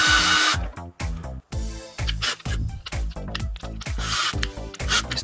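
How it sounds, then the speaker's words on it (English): Power drill boring a hole through a skateboard deck while installing wheels, in repeated bursts of high whining spin with brief stops between them, loud and close with no talk. "So we're going to drill the hole"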